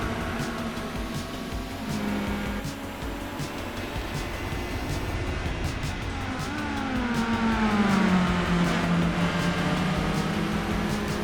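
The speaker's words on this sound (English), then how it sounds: "that turbo spools up so quick, too" A Honda S2000 with a turbo engine in Gran Turismo 4 holds a steady drone, then rises and swells as the turbo spools up late in the run, loud and close with no talk.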